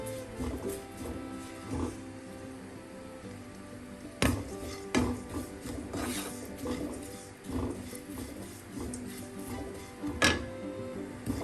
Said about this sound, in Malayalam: എല്ലാം നന്നായി ഒന്ന് മൂപ്പിച്ചെടുക്കാം.